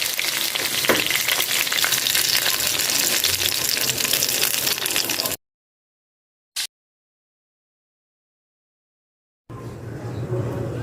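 Masala fish frying on a tawa pan gives a loud, dense sizzle for about five seconds, then cuts out into near silence with one brief click, before a fainter frying sound returns.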